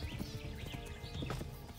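Rapid galloping hoofbeats with a horse whinnying in Kingdom Come: Deliverance, steady and fairly close over a busy game soundscape.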